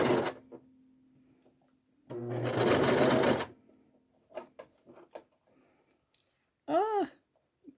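A sewing machine runs in a short close burst of about a second and a half, stitching across a homemade fabric face mask, with someone speaking briefly before and after.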